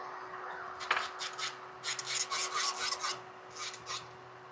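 Electric nail drill fitted with an arbor band, running at 9,000 RPM and filing a nail, giving a soft rasping buzz in short repeated strokes at close range with a steady faint hum beneath.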